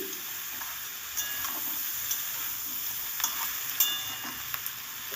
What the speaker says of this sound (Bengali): আমি একটু ভাজা হওয়ার পরে আমি ক্যাপসিকামটা দিলাম দেখুন ভালো করে একটু নেড়ে চেড়ে দিচ্ছি